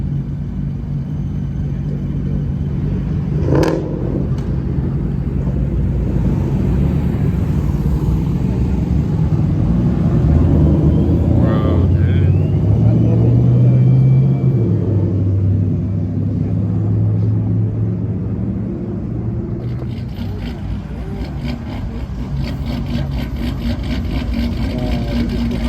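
A Dodge Hellcat roars through a burnout at a car meet, a loud, continuous low engine rumble that swells and holds for most of the stretch with crowd voices mixed in underneath.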